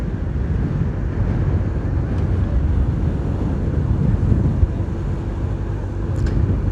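A crosswind roars steadily across the microphone on an open road during a bike race, a constant loud rushing blast with no talking.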